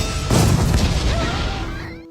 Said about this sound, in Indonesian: ledakan yang dihasilkan oleh Shin menyebabkan semua orang terkejut